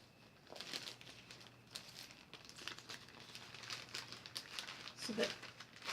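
A paper cross-stitch chart crinkles and rustles as it is folded up and put away, soft irregular crumpling close by, with a voice talking over it.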